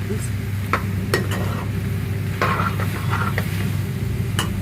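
A spoon scrapes and clinks against a pan several times in irregular strokes while stirring soya chunk and potato curry, over a steady low sizzle of food cooking.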